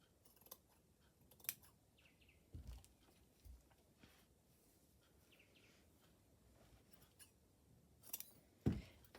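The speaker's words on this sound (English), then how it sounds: "I think I might just continue that on through there and cut that bottom bit out." Scissors snip through paper pieces for a vintage collage, a few sparse crisp cuts spaced out over quiet room noise, close but soft, with a sharper snip near the end.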